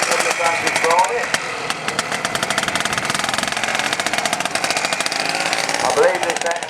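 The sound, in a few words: Francis Barnett motorcycle engine running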